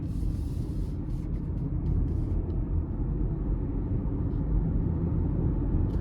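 Muted road noise inside the cabin of a 2022 GMC Terrain AT4 on the move: a low, steady rumble of tyres and powertrain, fairly quiet and unbroken.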